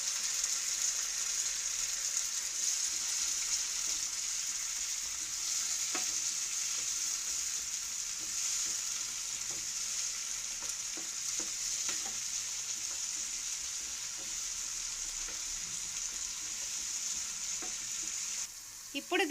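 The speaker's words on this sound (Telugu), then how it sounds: "ఇలా లైట్గా ఫ్రై అయిన తర్వాత 1 tea spoon ginger garlic paste, మనం ముందుగా తీసుకున్న టమాటో పల్ప్ని వేసుకుని" Ginger garlic paste and tomato pulp fry and get stirred in a pan for poha bajji, a steady close sizzle running throughout with occasional scraping stirs and a brief knock near the end.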